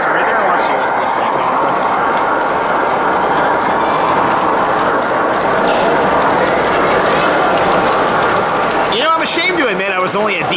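A model train runs on a layout at a busy train show, its steady rolling rumble and clatter continuous under crowd chatter and people talking nearby, with a brief mechanical whine near the end.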